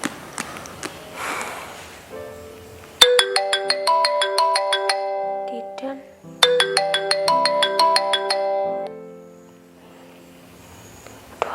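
A mobile phone ringtone plays a bright, plinking melody loud and close, running twice through the same phrase with a short pause between, before fading away.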